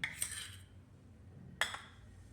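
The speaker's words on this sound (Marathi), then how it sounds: "कॉर्नफ्लोअर मी दुधात मिक्स करून घेते" A metal spoon clinks twice against a vessel while cornflour is stirred into cold milk, two short bright clatters separated by quiet.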